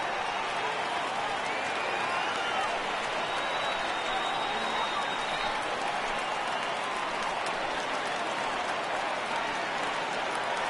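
A steady wash of crowd applause and cheering in an MLB The Show 18 baseball game at a Giants–Dodgers afternoon matchup, broad and even throughout with no distinct voices.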